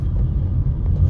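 A truck speeding along a road makes a continuous deep engine rumble, close and fairly loud, with no voices over it.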